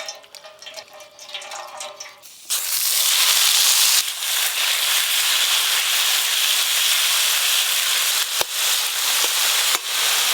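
Drained water lily stems drop into hot mustard oil in a wok with dried chillies and five-spice seeds. Faint frying turns into a sudden loud, steady sizzling hiss that keeps going at close range.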